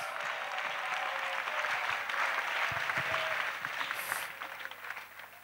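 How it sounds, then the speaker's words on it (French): Church congregation clapping in praise to Jesus Christ during an evangelism service, a broad crowd applause at moderate distance, steady and full, then thinning toward the close. "Clap offering to Jesus."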